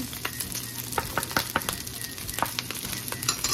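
Garlic and pork fry with a steady crackling sizzle in two tablespoons of oil for Kapampangan pork binagoongan, with sharp spattering pops and occasional stirring clicks close by, and no voices.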